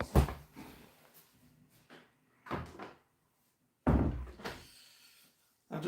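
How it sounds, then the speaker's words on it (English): An indoor door is pulled shut with a few thuds and knocks in quick bursts, up close and fairly loud, with short quiet gaps between them and no talking. "I have to close the door on that because, well, there was a lot of noise coming from the bathroom."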